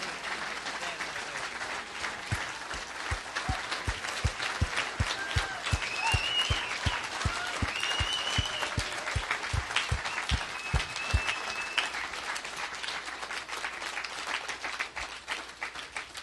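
A rodeo crowd at the National Finals applauds and rises for cowboy Fred Whitfield, with sustained dense clapping, some louder individual claps, and an announcer talking over the ovation.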